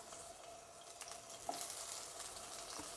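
Eggplant slices frying in hot oil in a kadai, a steady soft sizzle with a brief clatter around the middle, fairly quiet and with no voices.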